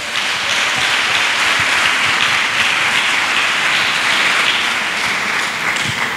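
A church congregation at a thanksgiving service in Attiekoi claps and cheers to acclaim the Lord, a dense, steady wash of applause that holds at full strength throughout.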